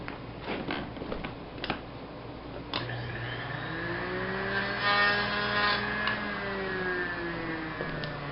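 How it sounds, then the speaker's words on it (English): A small power saw cutting through lead came for leaded glass, running steadily with a whining pitch that rises and bends as the blade works through the soft metal, after a few brief clicks and handling knocks. "I'm going to go over the saw real quick and cut this"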